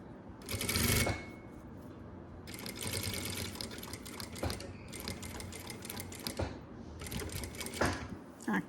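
A sewing machine stitches a zipper onto fabric for a cosmetics pouch, running in several steady bursts separated by short pauses, close and fairly loud, with a voice talking briefly between runs.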